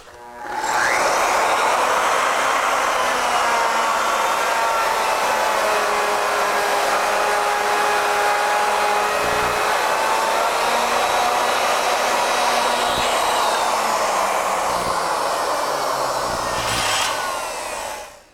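Legacy Ornamental Mill making the second cut of a three-start spiral, a steady loud motor whine with cutting noise running continuously for about seventeen seconds before stopping.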